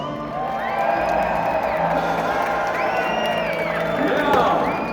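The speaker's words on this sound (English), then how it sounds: "for this crowd on this side, having a nice round of applause for Sir Carlos!" A live jousting show crowd cheers and whoops in a dense, steady roar with some applause. Shouting voices rise over it and a few voices stand out near the end.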